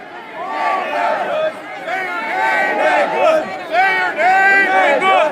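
Crowd of demonstrators at a protest, many voices chanting and shouting together in overlapping bursts, loud and close.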